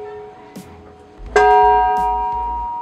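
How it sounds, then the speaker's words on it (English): A town clock's bell is struck once by its hammer, a sharp metallic strike that rings on with a sustained tonal hum, preceded by faint mechanical clicks nearby. "I'm gonna give you a sample of the bell"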